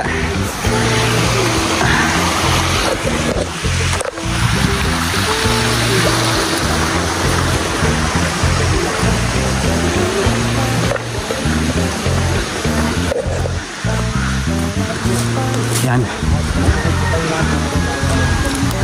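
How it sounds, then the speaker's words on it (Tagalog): A small river rushes steadily along, a loud and continuous broadband wash of flowing water with low rumbling undertones that persists unbroken throughout. "Ito ang ilog mga kalangga"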